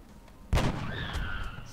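A single sniper shot in the video game XCOM, a sharp heavy crack with a booming tail and a faint ringing decay afterward, alone and close.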